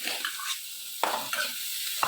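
Onions and capsicum sauté in a pan, with bursts of loud sizzling as they are stirred and tossed, separated by short quieter gaps, close by and without speech.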